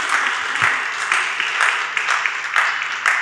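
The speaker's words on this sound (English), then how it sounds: "Please, let's give a warm round of applause to our founders." Warm, even applause from an audience at an investor summit demo day, honouring startup founders; steady clapping with rhythmic swells, moderately loud and close, lasting a few seconds.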